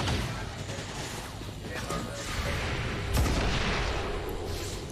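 Gunfire at the Lost in XCOM 2, a dense, steady wash of shots and impacts with a heavier crack near the middle, under background game noise.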